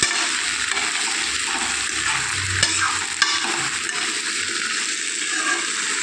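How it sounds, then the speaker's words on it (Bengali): Tomato and TMC being stirred together in a hot frying pan, giving a steady close sizzle with soft scraping and stirring sounds throughout and no talking. "এই যে টিএমসি এই যে টমাটোর একসঙ্গে দিয়ে দিলাম। তো নাড়াচাড়াটা করে নিই।"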